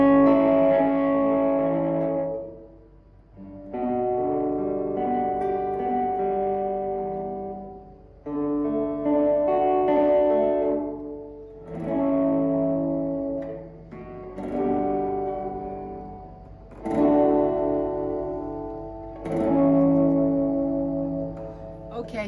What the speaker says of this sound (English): Okay, so that is the reverb part of this